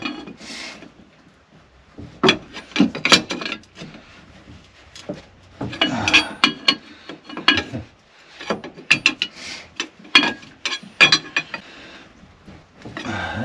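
Metal tools scrape, clank and knock in irregular bursts as a pry bar works a pulley loose during a PCM ZZ6 marine engine impeller replacement. The sounds are close and uneven, with pauses between efforts and no talk.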